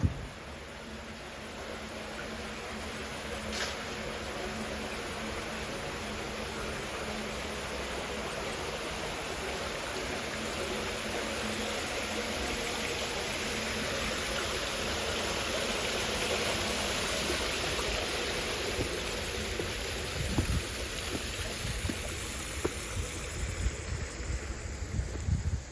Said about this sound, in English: Listen to all that water melting off.